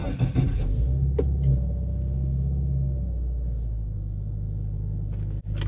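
A 2020 Subaru WRX engine starts at the push of a button and settles into a steady, loud idle rumble, with a brief higher-pitched catch as it fires and a short dip near the end.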